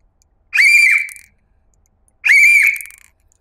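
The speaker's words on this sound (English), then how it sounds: "I blew the whistle 2 times" A whistle is blown twice, each blast a loud, shrill, close tone lasting about three-quarters of a second with a slight warble, separated by more than a second of silence.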